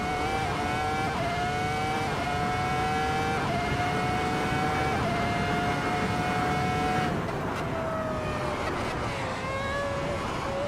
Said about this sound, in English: we are hitting the limiter here